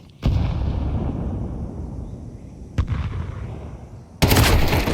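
AK rifle fire in a Counter-Strike esports match: loud, sharp bursts of gunshots in three separate volleys, with a faint lingering ambience between them and no voices.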